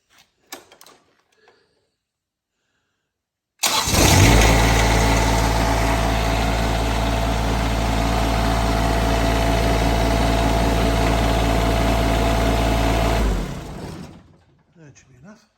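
A John Deere X595 lawn tractor engine cranks and catches, then runs at a steady, loud idle for about ten seconds before shutting off, with a few faint sounds before and after.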